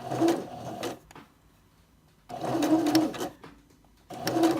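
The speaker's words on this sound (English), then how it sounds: "Now I'm going to just try to sew along that 3/8 inch engraved line." Sewing machine stitching fabric along a 3/8 inch engraved seam line, two close, steady runs of whirring stitches separated by a quiet pause, with a third burst starting at the end.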